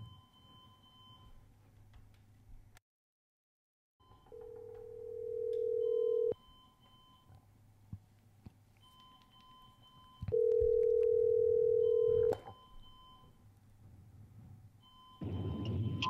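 Telephone call being placed: two long, steady electronic tones with faint beeps between them, fairly quiet and without speech.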